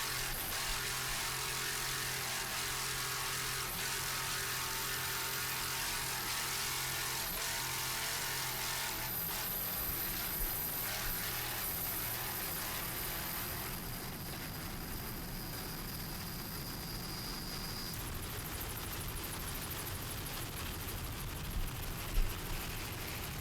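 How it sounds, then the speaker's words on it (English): A classic 27-foot Magnum offshore powerboat races at full throttle during an offshore race at Ocean City, Maryland, giving a steady, loud engine roar that holds through the whole stretch, with wind and water noise mixed in. "Jerry Mimoli doing a great job on the throttles in this classic 27-foot Magnum"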